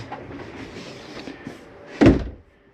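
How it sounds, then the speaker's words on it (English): A cabinet door inside a 2023 Jayco Jay Flight 264BH travel trailer shuts with one sharp, close knock after a stretch of soft rustling and handling noise, then quiet. "make sure all the doors and drawers are closed"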